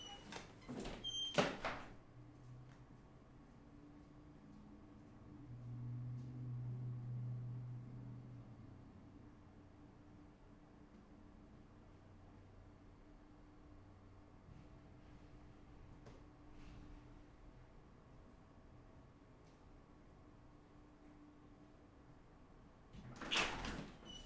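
A door handle rattles and clicks, then a long stretch of quiet room hum, ending with another clatter as a door opens.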